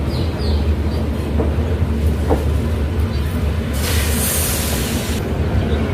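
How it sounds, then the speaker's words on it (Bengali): The Gorakhpur Purbanchal Express pulls out of Kolkata station with a steady, heavy rolling rumble, faint wheel clicks and a brief hissing surge partway through. "কলকাতা স্টেশন থেকে আমাদের ট্রেন ডিপারচার করছে"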